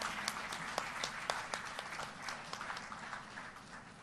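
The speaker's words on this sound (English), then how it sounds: "Please keep applauding for such a phenomenal personality." Steady audience applause at an international health conference, honoring a distinguished guest, made of many individual claps that form a dense patter at moderate, even loudness with a few sharper claps standing out.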